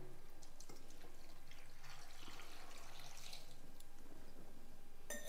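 Water is poured into a cooking pot of tomato curry with chillies and turmeric, heard as a faint, continuous trickling splash with light drips.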